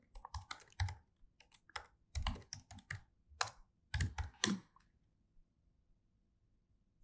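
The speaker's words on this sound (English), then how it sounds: "So let's type it in" An email address is typed on a computer keyboard in close, quiet bursts of key clicks with short pauses between them, and the typing trails off near the end.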